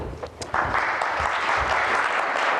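Audience applause at a Black Hat Windows 2001 security conference talk, a dense steady clapping that swells in after a quiet start and holds loud and close to the end.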